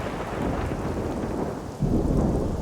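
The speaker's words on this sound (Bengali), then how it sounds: "আজ সকাল থেকে আকাশে ঘন কালো মেঘ, সাথে মুষলধারে বৃষ্টি হয়ে চলেছে," A thunderstorm with a heavy downpour: a dense, steady roar of rain mixed with low rumbling thunder that swells louder near the end, with no voices.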